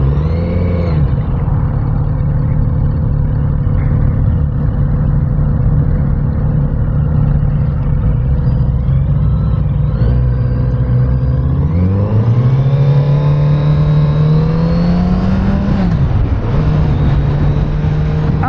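Kawasaki Z900 RS Cafe engine droning loud and steady while riding, holding a low even pitch before rising smoothly through the gears around the middle and easing off near the end, with no talk over it.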